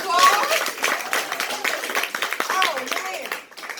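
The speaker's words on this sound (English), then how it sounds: "let's give Mr. David another round of applause" A comedy-night crowd claps for a comedian in scattered, uneven bursts, with voices and laughter mixed in throughout and the clapping trailing off at the end.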